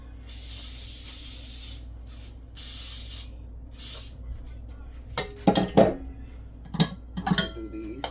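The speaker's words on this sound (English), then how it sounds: "I'm going to spray my pan very well," Cooking spray hisses in several long bursts into small metal cake pans for a pound cake, followed by clattering as the pans are knocked and set down.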